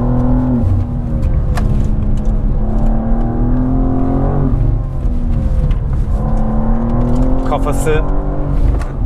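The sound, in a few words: 2023 BMW M2 G87 engine accelerating and revving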